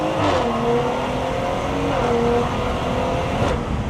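A car with a B58 engine drones loudly and steadily, its engine note rising and falling slightly as it revs, close by with no clear speech.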